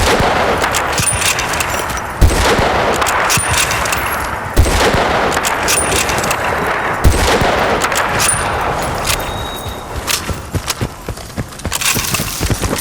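Dense, continuous gunfire fills Battlefield Bad Company 2 gameplay, with rapid shots and several heavier blasts standing out over a busy battle din. No one speaks.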